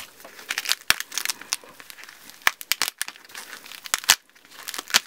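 Paper and packaging from a manga parcel crinkle and tear close up, a quick irregular series of sharp rustles and rips at moderate volume with no talk.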